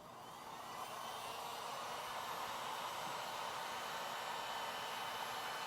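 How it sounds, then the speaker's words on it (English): A heat gun switches on and blows a steady, loud rush of hot air that holds constant throughout, with no talking. "Turn on my heat gun. You can use a hair dryer if you want to on the high setting."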